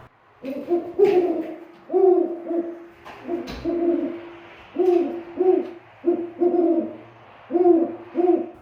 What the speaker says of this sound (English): You can also recognize a great horned owl based on its iconic hooting vocalizations